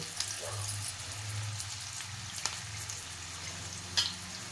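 Thinly sliced onions sizzle and fry in oil in a pan, a steady soft crackle with occasional faint clinks, heard alone without talk.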